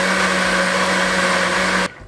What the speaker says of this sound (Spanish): usen licuadora, que es mucho más fácil